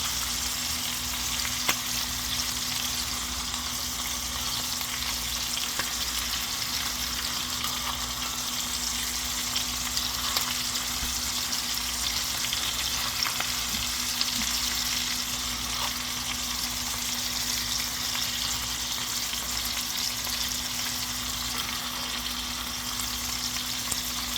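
Steak fillets and bacon frying in hot fat, a continuous dense sizzle and crackle close up with a steady low hum beneath and faint scattered pops, no talking.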